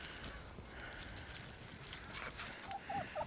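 Backyard chickens give a few faint, soft clucks near a coop on an icy day, quiet and somewhat distant against a low background hiss, with the calls clustered toward the end.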